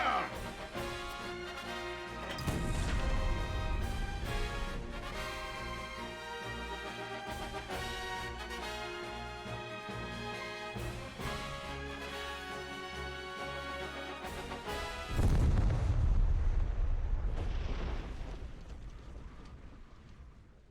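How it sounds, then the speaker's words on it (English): Cannon fire in the video game Triangle Strategy booms out twice over a sweeping orchestral score, with a deep rumbling crash near the start and another heavy blast late on, followed by a crumbling, fading rumble. "A peal of cannon fire washes over the sandy wastes."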